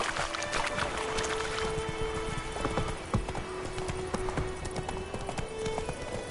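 Roach, Geralt's horse in the video game The Witcher 3, clip-clops steadily along at a walk, hoof beats close and even over a background of game ambience, with no speech.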